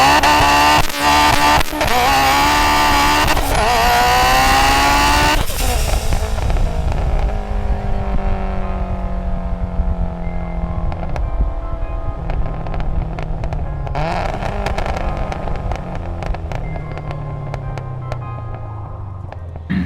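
A rebuilt Mitsubishi Evo X driven hard, its engine revving up through rising gear pulls, then shifting and settling into a lower, steady drone with further revs. The sound is loud and close, with no talking.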